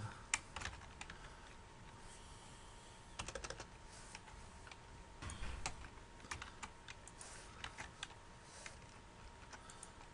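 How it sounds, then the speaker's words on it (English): Faint, close keystrokes on a computer keyboard, irregular bursts of soft clicks with short gaps between words, no voices. "So let's type in recipes here."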